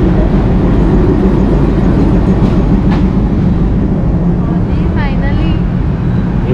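A double decker train rumbles steadily at a station on the Ratnagiri to Mumbai route, a loud, continuous low roar with faint platform voices in the background.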